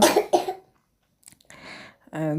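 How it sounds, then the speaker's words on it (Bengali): Two sharp, close coughs from a child in quick succession, then a pause with faint rustling and a short vocal sound. "ভিডিওর মাঝে মাঝে কাশির শব্দ মানে কিছু শব্দ শোনা যাচ্ছে"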